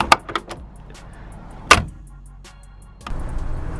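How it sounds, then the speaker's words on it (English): A Mercedes G-Wagon door opens with a sharp mechanical click, then slams shut with a solid, loud thunk, followed by quiet interior rustling and a low steady hum. "The door handle looks exactly the same. And the sound it makes opening and closing is the same."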